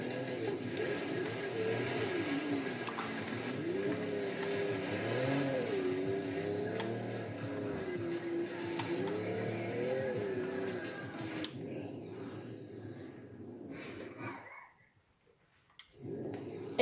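An Audi Quattro driven in the game Forza Horizon 3 on a snowy mountain course gives a steady, wavering engine drone that rises and falls with throttle, then cuts out abruptly near the end.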